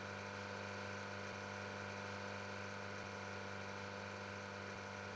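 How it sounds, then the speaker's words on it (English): Farm machine engine in the Farming Simulator 22 video game, a constant high-pitched buzzing drone with steady tonal harmonics, loud and unchanging, like a chainsaw. "Sounds more like a high-pitched buzzing chainsaw."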